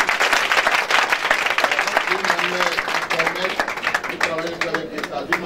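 A church congregation claps and cheers for Jesus during a service, with dense, steady applause and crowd voices carrying throughout before easing slightly at the end.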